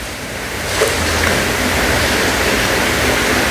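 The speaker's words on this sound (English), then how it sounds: "Do you hear the rain outside?" Steady rain falls outside, a dense broadband hiss that swells slightly in the first second and then holds constant and fairly loud throughout, with no voices.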